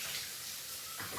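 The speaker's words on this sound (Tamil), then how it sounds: "நல்லா அலசிட்டு நல்லா தண்ணி வடிச்சுக்குங்க" Steady rush of water from rinsing and draining soaked ingredients, splashing close and continuous, changing character briefly near the end.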